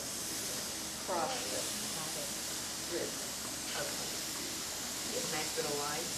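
Drained oranges sizzle on a grill with a constant, bright hiss, while someone talks over it in a few short phrases.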